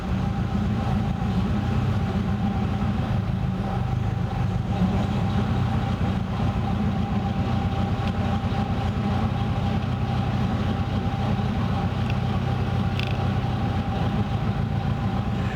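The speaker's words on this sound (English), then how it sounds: "How many engines do you know will tick over at 400 RPM?" A vintage Blower Bentley engine idling at about 400 RPM, slow and steady, low and even with a faint rhythmic throb, running continuously without revving up.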